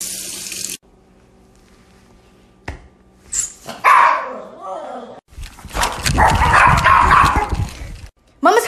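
A dog barks excitedly in short loud bursts at a lizard, the barks loud and close, mixed with splashing running water and some human voices.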